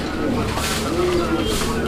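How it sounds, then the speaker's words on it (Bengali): Pigeons coo softly in a low, rolling murmur, with rustling and movement nearby; voices are faintly present in the background. "দেখেন সবগুলো কবুতরই ডাকে"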